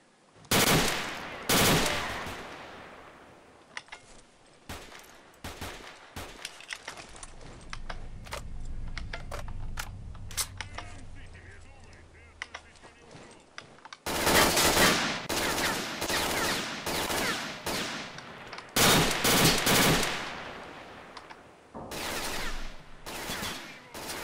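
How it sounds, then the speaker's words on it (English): Gunfire in the video game S.T.A.L.K.E.R., set in Chernobyl: loud bursts of shots in two clusters at the start and again in a longer dense volley later, separated by a quieter stretch of clicks and low rumble, with no talk. "a new weapon sound"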